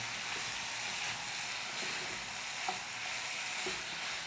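Prawns frying in plain oil in a pan for Mangalore-style ghee roast, a steady close sizzle with a faint scraping stir now and then, with no one talking.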